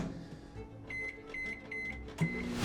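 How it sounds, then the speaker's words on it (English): Microwave oven humming as it heats mac and cheese, with a run of four short, evenly spaced beeps, then a louder clunk and rising noise at the end, all fairly quiet and close. "Microwave for 5 minutes."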